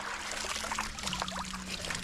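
A small river stream trickles and babbles softly close by during magnet fishing, a faint, continuous watery patter with a low steady hum underneath.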